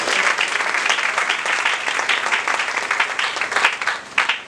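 A church congregation claps and cheers loudly and steadily, a dense sustained wave of applause that lasts throughout before tapering slightly at the end.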